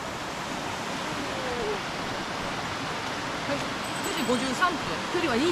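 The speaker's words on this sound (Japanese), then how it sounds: "雨量というか水量がすごいよね" A mountain stream running high after a day of rain on the Yahazu-dake trail in Kansai, a loud, continuous rushing wash up close, with faint bird calls and brief voices near the end.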